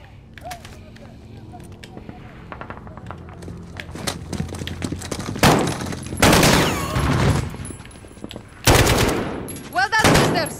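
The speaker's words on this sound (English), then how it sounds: "Point and shoot until they fall" Guards are shot down in Call of Duty Modern Warfare (2019), with several loud bursts of automatic gunfire arriving in clusters over the second half, following quieter movement and scattered clatter, with voices speaking in between.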